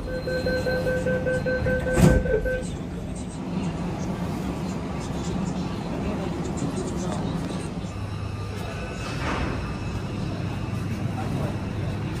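A metro train in China rumbles steadily with a low, continuous drone, a brief louder clatter near the start and faint squeals, while voices murmur in the carriage.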